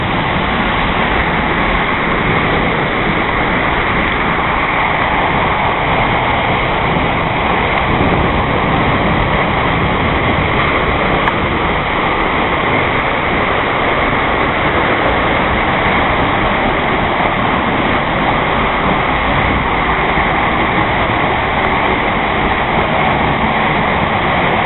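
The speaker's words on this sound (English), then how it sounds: "risking life and limb in Iceland, in the southwest, to go behind a waterfall so you don't have to." A waterfall in southwest Iceland roars loudly and constantly, heard from the space behind the falling water, a dense unbroken rumble and hiss with no speech.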